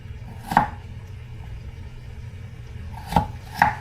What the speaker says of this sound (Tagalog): sa ngayon naghihiwa tayo ng patatas